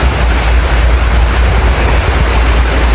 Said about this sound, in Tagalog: kasabak kami sa baha na naman